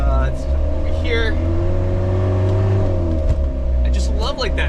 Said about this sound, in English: I just love like that diesel engine noise, especially when it's idling